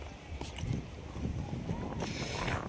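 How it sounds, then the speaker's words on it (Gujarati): A steady, rumbling roar of wind buffets the microphone throughout, heavy and low, with no clear pauses. "પવન છે મિત્રો એટલે વોઇસ"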